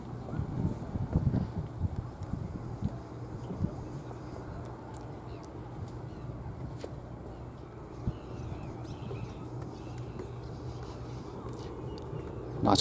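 Wind blowing outdoors by mangroves near a marina and a children's play park, a steady low rumbling roar buffeting the microphone throughout, with a few brief knocks and no clear voice.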